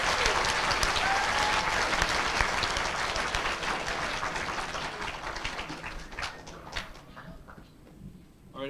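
Dense applause from a school audience at an eighth-grade spelling bee, loud and sustained, then thinning into scattered claps and fading near the end.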